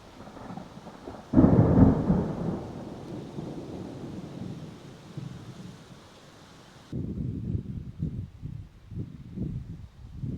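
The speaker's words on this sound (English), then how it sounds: "the thunder's kind of passed" Thunder rumbles through a storm: a loud, deep roar breaks out and slowly fades over several seconds, then gusty wind and rustling carry on in its place.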